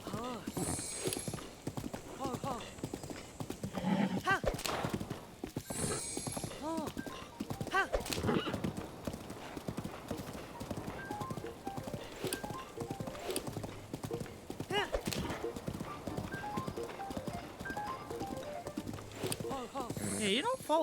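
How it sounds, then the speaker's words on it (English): Rapid rhythmic hoofbeats of a galloping horse in Zelda: Breath of the Wild go on steadily throughout, with occasional thuds and a faint snort or whinny, mixed with in-game background sound. "God, horses really are a nightmare in this game."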